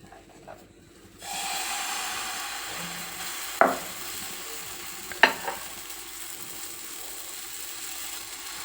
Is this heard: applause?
no